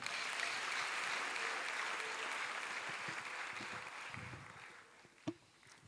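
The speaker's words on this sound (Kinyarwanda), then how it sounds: "Dukomere Imana amashyi" A church congregation applauds during a worship service, a dense, steady roar of many hands that slowly thins toward the end, with one sharp louder smack near the close.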